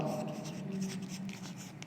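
Pen or chalk writing out a trigonometry problem during a class 10 maths lesson, a steady soft scratching stroke heard close and fairly quiet, with no talking over it.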